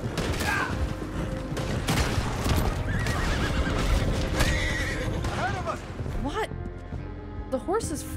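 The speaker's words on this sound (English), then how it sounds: "The horse is freaking out." A horse in Red Dead Redemption 2 whinnies and neighs repeatedly over loud, dense game noise, and its shrill cries come more often toward the end.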